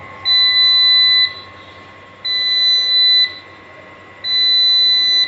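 A repaired UPS unit sounds an alarm after power is restored, giving three long, steady, loud electronic beeps of about one second each, spaced evenly with short gaps and a low hum underneath.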